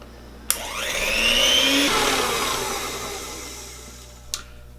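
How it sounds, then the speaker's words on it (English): A stand mixer creams butter and sugar in a home kitchen, a steady whirring motor hum that swells and rises in pitch, then eases back down, with a sharp clunk at the start and another near the end. "So I switched to my stand mixer Olga"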